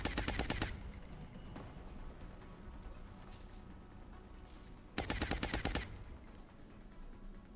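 Gunfire bursts from the turn-based strategy game XCOM: Enemy Within with the Long War mod: two loud rapid volleys of shots, one at the start and one about five seconds in, with quieter game ambience between them.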